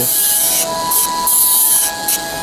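Nail file rasping across the free edge of a polished nail to sharpen the tip, loud close scratchy strokes in short bursts with brief pauses between them, and no voice.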